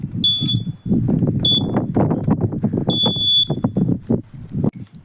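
A soil moisture irrigation system's buzzer sounds three bright, high electronic beeps at irregular intervals, loud and close over continuous talking.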